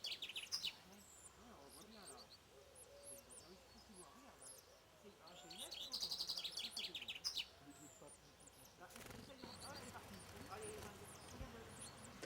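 A chaffinch sings with bursts of bright chirps and short trills, some loud and close, while a voice talks steadily underneath.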